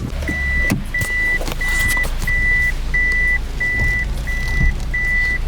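A Toyota JZX100 Chaser backs up after idling, its steady low engine rumble running under eight evenly spaced, high reverse-warning beeps.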